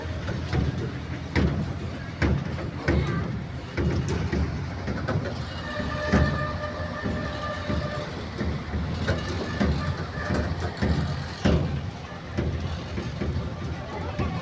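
Open-air trackless tourist train on wheels rolling through a forest near a hill temple, a steady rumbling ride with rhythmic clatter and a brief horn-like tone, voices chatting over it.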